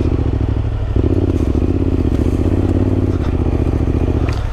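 A Yamaha Tenere 700 rides a dirt trail, its engine droning loud and steady throughout with rattling clatter and scraping from the rough ground.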